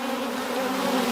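Honey bees buzz at a frame pulled from a hive, a dense, steady drone of many wings held close and unbroken, with no talk.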